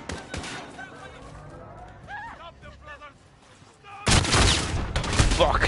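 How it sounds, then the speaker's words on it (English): Shotgun fire in the Call of Duty: Warzone campaign: a loud, dense burst of gunfire erupts near the end after quieter in-game ambience with brief melodic chirps, continuing through the final seconds. "Shotgun to the face!"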